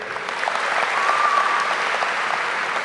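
Audience at a high school commencement ceremony applauding, a dense sustained wash of clapping from a large crowd with no voices over it.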